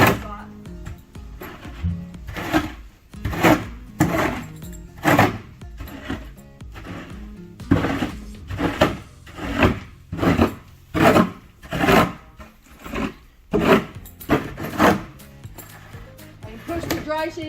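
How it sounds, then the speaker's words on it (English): Shovel scraping wood shavings across a horse stall floor, a series of rough rasping strokes in an uneven rhythm, close and fairly loud, with short pauses between pushes. "And I will scrape all the shavings with the shovel into the P spot."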